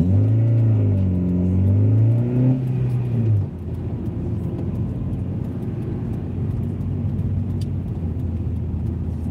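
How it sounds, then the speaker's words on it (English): Road traffic heard from inside a sedan, with a loud engine drone rising and falling over the first few seconds, then a steady lower rumble of car noise and passing traffic to the end. "Traffic, man, I hate it."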